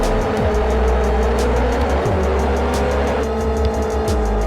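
A grid of about thirty race cars launches from a standing start in the Live for Speed racing game, engines roaring and revving loudly and continuously, with squealing tires and cars passing close by.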